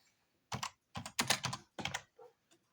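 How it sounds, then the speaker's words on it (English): Close keystrokes on a computer keyboard, several quick bursts of clacking typing separated by short pauses, in a quiet room with no talking. "Let me type this guy's name in."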